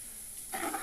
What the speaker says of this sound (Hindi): अदरक और लहसुन का पेस्ट ब्राउन होने तक